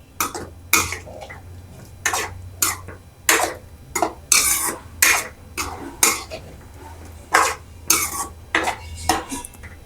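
A utensil stirs stuffed eggplant masala (bharli vangi) in a pot, homestyle Gavran cooking, with steady close metallic clanks and scrapes repeating roughly every second.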